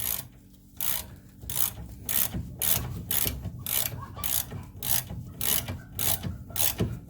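Ratchet tightening a nut from underneath a Rover Mini Cooper, a steady run of rapid clicking strokes repeating about every half second, close and fairly loud, with no talking.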